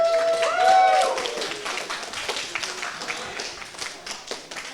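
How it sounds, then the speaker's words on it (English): An esports event crowd gives a round of applause for a Valorant team, with light scattered clapping that fades over a few seconds after a brief bright tonal sound at the start. "Give yourselves a round of applause for that one."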